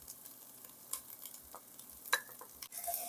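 Dry spices tipped into a hot pan and stirred for curry, giving a faint, soft sizzle with scattered scraping and light ticks of a utensil, quiet and close with no talk.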